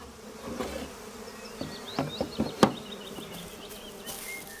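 Honey bees buzz around a hive in the Carpathian Mountains, a continuous close drone with individual insects swelling louder as they pass near.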